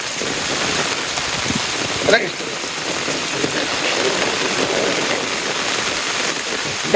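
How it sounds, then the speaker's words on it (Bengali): Steady rain on a surface with a broad windy hiss, continuous and fairly loud throughout, with a brief louder gust near the middle and no clear talk. "বাতাস বৃষ্টি"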